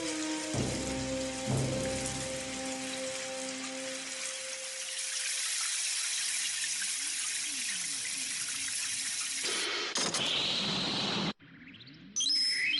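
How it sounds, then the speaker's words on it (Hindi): Rain pours in a dense forest as a dense, continuous hiss that begins after a couple of tonal notes and stops abruptly near the end. "बारिश।"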